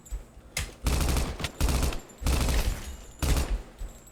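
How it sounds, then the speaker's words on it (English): Four bursts of rapid automatic gunfire from a gun in the Minecraft video game, loud and close, with short gaps between them and no talking. "Let's try out this gun."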